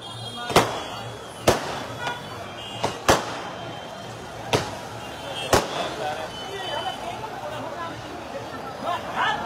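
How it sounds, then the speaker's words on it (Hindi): Firecrackers burst in a roadside welcome procession for arriving political leaders at a crossroads on the Sanchore border, giving sharp, loud, irregular bangs over a steady hubbub of crowd and traffic. "ऐसे पटाखे,"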